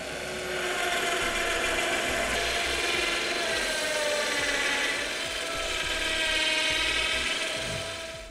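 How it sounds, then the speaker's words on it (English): A Bulldog trailer winch pulls a cart in a steady, loud mechanical whir and grinding drone that holds for several seconds, then tapers off at the end, with no talking. "Now we can re-engage our clutch and we're ready to start winching."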